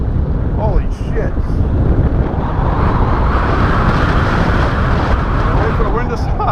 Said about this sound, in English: Wait for the wind to stop.